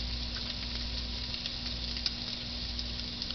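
Pork chops sizzling on a New Wave Pro cooker, giving a steady, fairly quiet crackling hiss with small pops and a low electrical hum beneath, close by with no voice.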